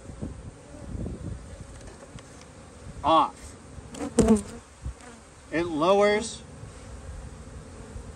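Honeybees buzzing at a hive entrance fitted with a pollen trap, a faint steady hum with a few louder close buzzes passing near, while someone speaks briefly.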